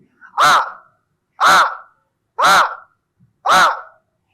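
During a yoga breathing exercise, a person imitates a crow's caw four times in a steady rhythm, each call loud, raspy and close, separated by short silences.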